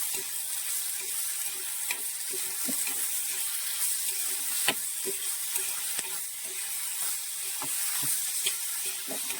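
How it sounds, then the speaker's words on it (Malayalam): Shallots and green chillies sauté in hot oil in a home kitchen for a Kerala theeyal, a steady soft sizzle running throughout with frequent light scrapes and clicks of stirring. "എണ്ണയിൽ നമ്മൾ വഴച്ചെടുക്കാം ഈ ഉള്ളിയും പച്ചമുളകും"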